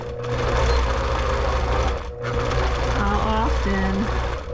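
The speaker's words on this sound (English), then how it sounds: "as I'm stabilizing the quilt, before I've done any major quilting," A longarm quilting machine stitches through a quilt, giving a steady, fast mechanical whir close by, with a person talking over it throughout.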